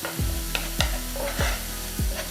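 Ground masala paste sizzling steadily in a pan, with regular scraping stirs every half second or so, close and fairly loud with no voices.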